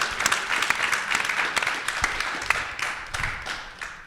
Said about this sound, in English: let's give a final round of applause to our incredible CEOs panel here today.